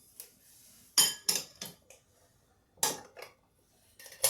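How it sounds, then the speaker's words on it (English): A utensil stirs a pizza chaffle batter of chopped Hormel pepperoni and Frigo shredded parmesan in a bowl, making several sharp, close clinks in short bursts with quiet gaps between. "And we stir it all together"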